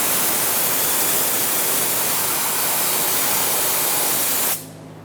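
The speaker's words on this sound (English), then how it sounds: "You can use something such as brake parts cleaner." Brake parts cleaner sprays from an aerosol can in one loud, continuous hiss lasting about four and a half seconds, then cuts off abruptly with no talking.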